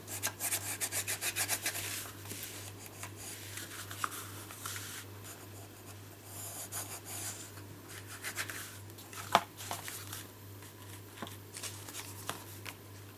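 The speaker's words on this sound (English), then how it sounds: "I'm going to give it a little bit of a burnish in there." A folded paper gift bag is rubbed with a burnishing tool, producing soft scraping, rubbing strokes in uneven rhythm, close and quiet over a faint background hum, with no talking.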